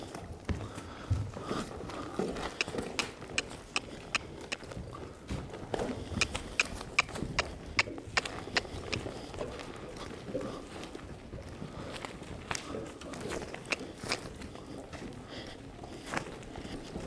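Foals run together, their hoofbeats forming a continuous, irregular patter of soft thuds at moderate distance for the whole stretch.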